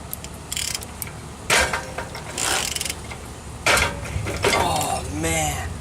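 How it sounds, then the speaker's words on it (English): Ratchet working a hub nut loose on a worn-out Dana 44 axle hub, with bursts of clicking and metallic clanks coming up close in uneven spurts between pauses, and a voice now and then. "Let's see if I can actually remove the nut"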